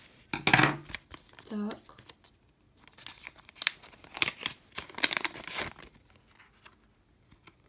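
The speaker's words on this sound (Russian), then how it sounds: "Так, давайте откроем один сюрпризик флаги." Paper surprise packet of flags being torn open and crinkled, with several sharp ripping bursts and rustling close by, while someone speaks briefly between them.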